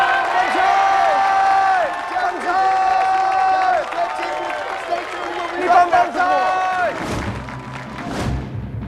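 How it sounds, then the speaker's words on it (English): A crowd at a Battletech world finals event cheers and applauds for the Japanese championship team, a loud sustained roar with whoops and clapping, thumps and scattered voices near the end. "Let's hear a cheer for the Japanese team."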